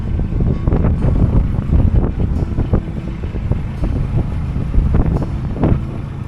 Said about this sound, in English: Now the wind to contend with.